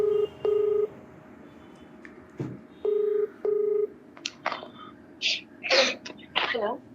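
A telephone number dialed on a keypad, a short series of evenly spaced touch-tone beeps, followed by a few brief rustling and breathy sounds close by.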